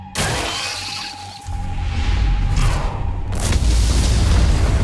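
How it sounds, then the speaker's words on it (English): Explosions going off in ant tunnels in the video game Solo Leveling: Arise, a burst of booms and shattering crackle that swells into a loud, continuous rumble. "Looks like fireworks are going off in the ant tunnels."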